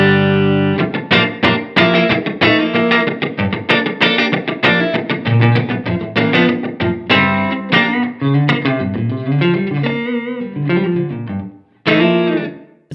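An electric guitar played through a Strymon Iridium amp modeler with its room reverb turned high, picking a steady run of bright, punchy notes and chords that blur into a roomy wash before a final chord rings out alone.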